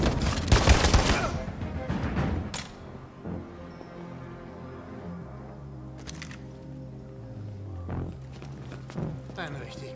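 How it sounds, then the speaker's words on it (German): Gunfire in the video game Detroit: Become Human, with a burst of loud shots up front and a few sharper cracks later, followed by quieter game ambience and mechanical clanks. "Ein richtig guter Schuss, Kran."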